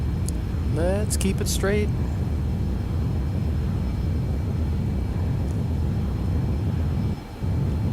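Cirrus aircraft engine in X-Plane 11 roars steadily at full throttle, a loud continuous drone that runs unbroken; someone speaks briefly over it near the start.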